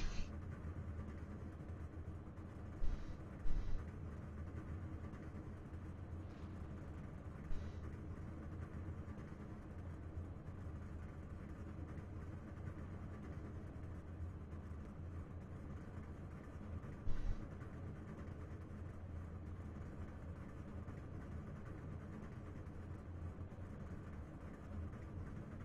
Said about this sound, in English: That's always a good thing when you hear the cars or trucks rolling off the grid.